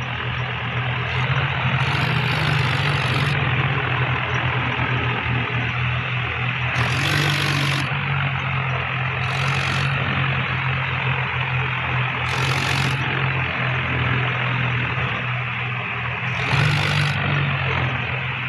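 A farm tractor engine idles steadily up close, a loud, even low drone throughout with brief high-pitched bursts recurring every few seconds.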